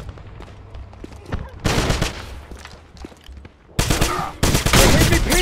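Loud bursts of gunfire in the video game Wolfenstein, with sporadic shots giving way to heavy, sustained volleys in two surges, close and overwhelming.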